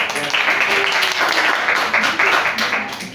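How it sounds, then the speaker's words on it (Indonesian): A classroom of students gives a round of applause during a microteaching lesson, a dense burst of clapping that holds steady and fades slightly at the end, with voices mixed in. "Oke, kasih tepuk tangan dulu dong."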